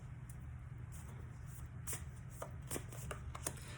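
Oracle cards are shuffled by hand in a close, quiet room, giving a run of soft riffling flicks and slaps that grow busier toward the end over a low steady hum.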